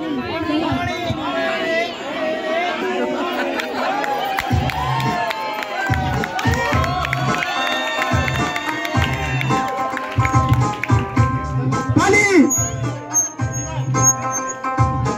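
Wedding crowd at a Bollywood-themed ceremony shouting, cheering and chattering as a continuous, busy din, with children's shouts and a brief burst of louder whistling and cheering near the end.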